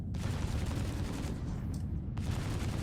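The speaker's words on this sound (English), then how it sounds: "I'm gonna shoot the laser repeaters first" Laser repeaters firing in the space game Star Citizen, a steady dense stream of rapid energy shots blending into a continuous roar, with a couple of brief brighter zaps standing out.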